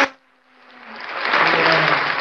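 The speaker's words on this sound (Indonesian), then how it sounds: "Berikan tepuk tangan." Audience applause closing a session at a grade 8 church retreat held virtually; the clapping swells from quiet to a steady, dense patter and keeps going to the end.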